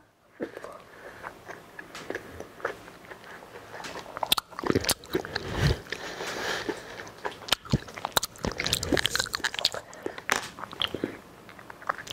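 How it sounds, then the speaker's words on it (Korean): Mandarin orange segments being eaten close to the microphone, with juicy bites, wet squishes and soft crunchy chewing in irregular bursts, intimate and fairly quiet, with no talking. "일단은 귤부터 먹어볼게요"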